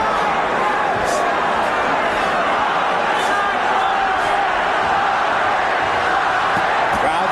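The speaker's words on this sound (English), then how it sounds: "Crowd chanting Chavez, Chavez." A boxing arena crowd chants and roars steadily throughout, a dense, sustained wall of voices with rhythmic surges, heard at a distance under commentary.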